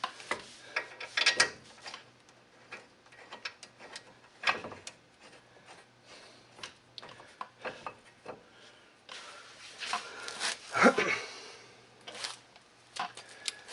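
A hand ratchet works on a brake bolt of a 2007 Ford Explorer XLT in bursts of rapid clicking separated by quieter pauses and faint rubbing, close and moderately loud.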